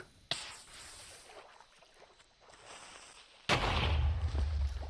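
A creeper explodes in Minecraft with a sudden loud, close blast near the end, and a roaring, crackling burst carries on to the close. A sharp crack sounds earlier, then quieter ambient noise follows before the blast.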